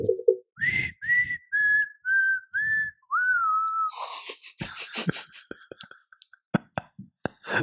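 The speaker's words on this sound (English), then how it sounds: "started whistling the theme music to X-Files" A clear whistled melody of the X-Files theme, several sustained notes, played alone up close, then followed by scattered knocks and rustling.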